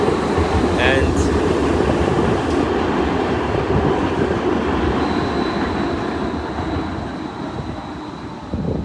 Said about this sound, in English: That's the T5 train, by the way.